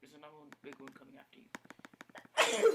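A person talks briefly, then a single sharp sneeze bursts out at the end.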